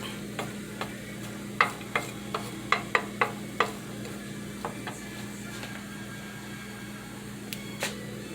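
Dried anchovies frying in a little oil, a faint low sizzle beneath a steady hum, punctuated by sharp scattered clicks and taps of a utensil in the pan.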